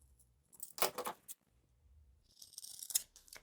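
Scissors cutting a fabric piping strip for a round bag, a couple of quiet, close snips and rustles of cloth in an otherwise silent room.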